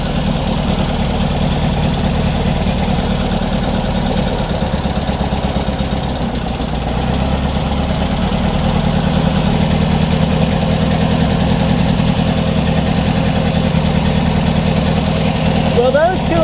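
Air-cooled engine of a Beck 550 Spyder replica running at a steady idle after valve work, a loud, continuous low rumble with an even pulsing beat and a brief dip partway through, close up.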